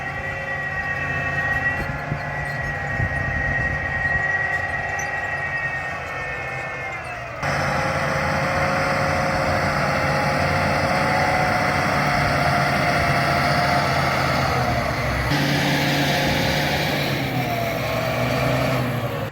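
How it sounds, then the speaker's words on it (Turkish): A tractor engine runs steadily with a low, throbbing drone in a field in Ruse, Bulgaria, shifting in tone partway through; continuous and fairly close, with no talking. "Şurada da bir traktör var."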